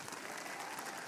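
Banquet audience applauding together, a steady wash of clapping hands at fairly close range that holds evenly through the short moment with no talk over it.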